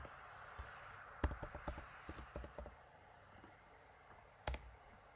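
Mouse clicks while saving in fuel account software, a quick run of soft close clicks followed by a lone click after a pause, over a faint background hum.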